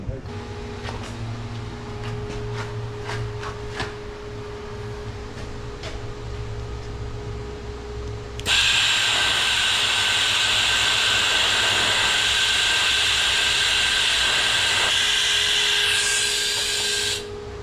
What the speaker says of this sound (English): I TIG weld inside here now. So if you can switch on the machine for me.